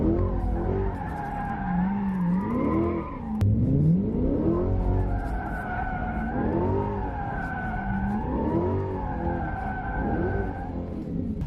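A mid-engine Corvette C8 drifts as its engine surges and dips with constant throttle modulation, the revs rising and falling in waves while the tyres squeal steadily and loudly up close.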